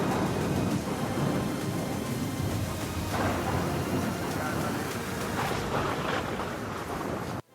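Heavy monsoon rain pours steadily in Mumbai while deep thunder rumbles through it, loud and continuous before cutting off abruptly, with a voice faintly beneath.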